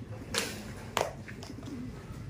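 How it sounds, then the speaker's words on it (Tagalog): Racing pigeons arriving home at their loft coo softly, with a couple of sharper wing or landing bursts against quiet background noise. "nagsabay-sabay ng mga ibon natin"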